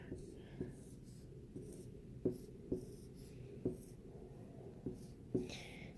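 A pen draws on paper, faint scratching strokes with a few sharper taps spaced about a second apart, close and quiet, with soft talking alongside.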